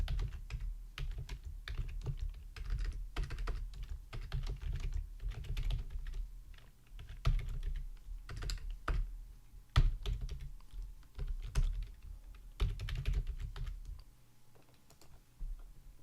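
Steady rapid typing on a computer keyboard while writing Python code, with dense clicking keystrokes in quick bursts and brief pauses, close and moderately loud with no talking.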